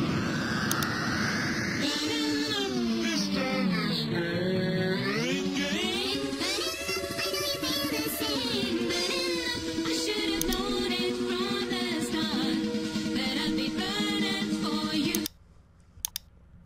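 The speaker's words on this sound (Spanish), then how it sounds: "cuando no tenemos Master Tempo, suena así." Music in Virtual DJ software, pitch-shifted with Master Tempo turned off so its tone slides up and down with the speed, playing continuously for about fifteen seconds before cutting off to near silence with a couple of clicks.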